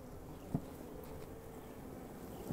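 Honey bees crowding a brood frame during a hive split give a faint, steady buzzing hum, with a soft knock or two near the start and end.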